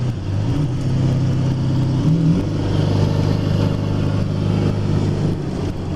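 Modified 7.3 diesel truck towing uphill, its engine droning steadily and loud at close range with a rising turbo whine layered over the low rumble, no voices.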